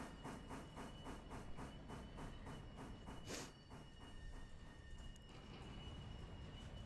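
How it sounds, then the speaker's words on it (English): A coal train running in the Railroader game, a steady rhythmic chuffing and hiss with clicking wheels and a brief louder steam burst midway. "The coal train is making its deliveries. She's raising hell."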